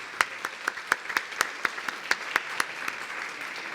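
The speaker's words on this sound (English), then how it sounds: "so let's give them a round of applause." An audience at a community health event applauds a lunch sponsor, producing a thin, evenly spaced run of sharp claps at a moderate distance that thin out toward the end.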